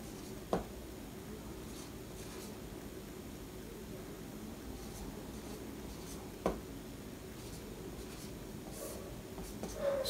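Hand writing out a decimal addition sum, a soft continuous scratching of the writing tool with a few faint taps along the way, close-up and quiet, with no voices.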